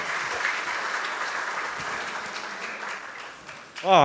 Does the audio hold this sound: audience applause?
yes